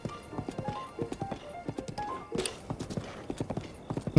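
Rhythmic clip-clop of a white horse's hooves trotting on a hard surface in Zelda: Breath of the Wild, steady and close, with a brief snort near the middle and faint tones in the background.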